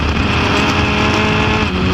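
A Formula Ford race car at Croft circuit roars loud and close, its engine holding a steady high drone as the driver gets back on the power.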